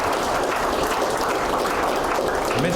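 An audience gives a big round of applause after a colonel's presentation, the clapping thick and continuous, close and loud for the whole short stretch.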